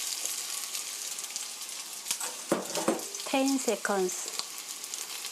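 Kneaded beef mixture frying in oil in a pan, a steady hiss of sizzling with a few brief louder crackles as the meat goes in, while someone speaks briefly.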